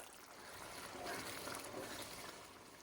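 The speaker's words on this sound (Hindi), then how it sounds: "कीमे को पकाने के लिए 1 गिलास पानी गर्म डाल लेते हैं" Hot water poured into keema cooking over high heat in a pan, a steady soft trickling and splashing of liquid running for about three seconds, fairly quiet and with no voices.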